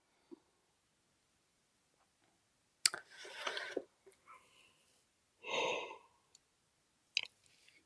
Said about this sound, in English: I'm so sleepy I can't help but yawn